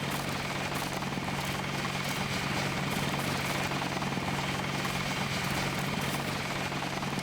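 Helicopter engine drone from the Deus Ex video game at UNATCO HQ, a steady continuous whir with rotor thrum and low hum holding evenly throughout, no talk.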